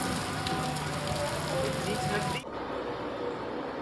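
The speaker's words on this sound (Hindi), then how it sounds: "बहुत तेज बारिश है।" Dense, steady hiss of heavy rain pouring down, loud and close, dropping to a quieter patter for the final second.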